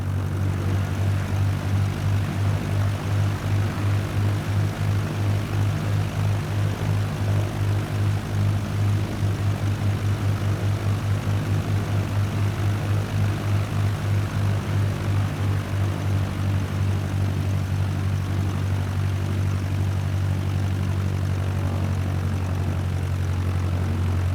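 Steady propeller aircraft engine drone with a strong low hum, heard while an airplane taxis toward holding point Alpha 1 on the way to runway 21 in Microsoft Flight Simulator 2020; loud and continuous throughout, with no talking.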